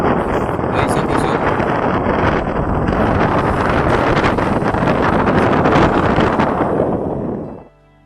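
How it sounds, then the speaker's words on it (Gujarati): Roaring gale-force wind buffets a fishing boat out on a stormy sea, a loud continuous rush with crashing surges that drops away abruptly at the end. "તોફાની દરિયો થઈ ગયો છે."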